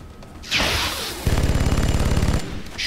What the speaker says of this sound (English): I'm going to take a wee cheeky shot then.